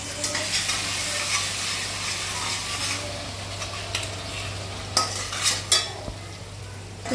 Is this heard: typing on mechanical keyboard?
no